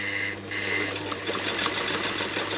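Sewing machine stitching in the ditch on a quilt, a steady continuous whirring drone with rapid needle clatter, close and loud throughout.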